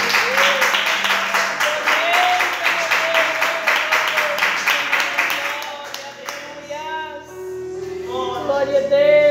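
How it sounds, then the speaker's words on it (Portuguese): A church congregation applauds in rhythmic clapping that fades out, after which a voice carries over a soft background tone. "Um aplauso para nosso Criador."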